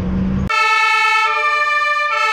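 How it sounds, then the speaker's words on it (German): A fire engine siren in a children's road-traffic video game plays loud and steady, a bright two-tone horn-like wail that shifts pitch partway through, following a brief low hum at the start. "Tatütata, die Feuerwehr ist da."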